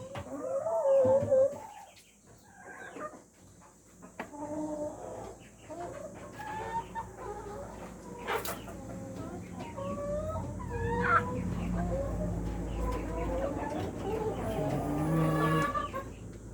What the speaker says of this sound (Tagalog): Na-produce natin na hens na dark mahogany.